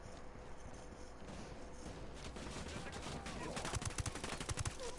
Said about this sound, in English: So I'm gonna have my team open fire and shoot back.